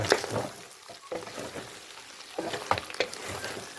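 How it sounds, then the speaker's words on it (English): Onions frying with pork shoulder in a pan for a Samoan stir fry, a soft crackling sizzle with bursts of stirring scrapes, close and moderately quiet, no voices. "I'm using like 5 onions. Let it fry."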